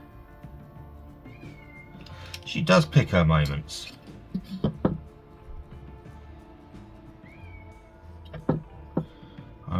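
Pet cat meowing at home, a few close, drawn-out meows in quick succession followed by a couple of shorter calls, with a person talking briefly in between.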